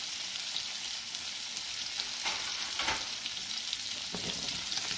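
Salmon pan-seared skin side down, a continuous even sizzle at moderate level with a few faint utensil touches, close and without talk.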